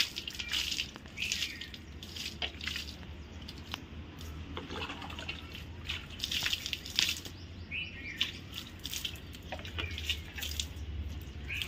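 Water splashes and drips continuously as a Gudi pole is washed clean outdoors, with scattered close splashes, a steady low hum underneath, and birds chirping now and then in the background.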